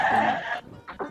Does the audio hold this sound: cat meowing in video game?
no